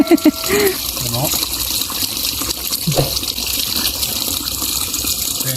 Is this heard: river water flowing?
yes